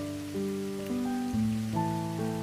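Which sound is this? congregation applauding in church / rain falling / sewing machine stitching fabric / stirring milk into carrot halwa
rain falling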